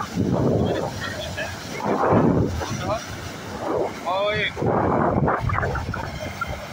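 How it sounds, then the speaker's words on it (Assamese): A rescue boat runs at full speed on the Brahmaputra river, its engine and rushing water mixed with heavy wind buffeting the microphone as people talk over the noise. "এতিয়া আমাৰ ফুল স্পীডত গাড়ীটো গৈ আছে নাও গৈ আছে"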